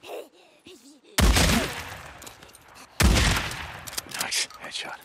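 Two sharp, loud gunshots in the Days Gone video game, the second landing a headshot, each followed by a rumbling tail and scattered impact noise, after a brief voice at the start.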